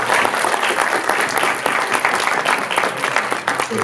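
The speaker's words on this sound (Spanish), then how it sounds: "yo le daría un aplauso por" An audience at a conference on aesthetics claps steadily, a dense, continuous round of applause from a room full of people.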